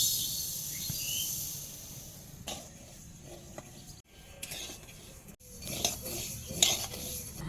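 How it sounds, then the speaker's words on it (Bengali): Mustard seeds dry-frying in a metal karai, giving a steady faint rustling hiss with scattered scraping and clinking of a spoon against the pan, close by and without talk. "তাকে সর্ষেটা ভেজে নিচ্ছি।"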